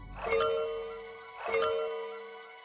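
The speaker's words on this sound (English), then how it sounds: "you hear the sound of the phone picking up" Phone line picking up sound effect in a tabletop roleplay episode: two bright ringing chime-like tones about a second apart, each swelling then fading, with no voices.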